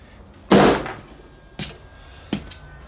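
A hammer strikes a steel jewelry stamp into silver with three sharp metallic blows: one loud hit, then two lighter ones spaced apart, each ringing briefly, close and with no talk.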